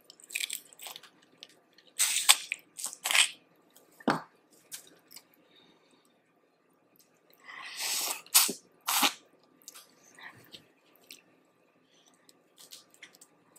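Close, wet cracking and slurping sounds of garlicky crawfish come in scattered bursts, with quiet pauses between bites and sucks of the shells.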